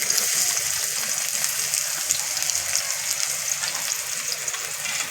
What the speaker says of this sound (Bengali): তেলটা ভালো করে গরম হয়ে গেছে দুখানা পেঁয়াজ কুচিয়ে রেখেছি দিয়ে দিচ্ছি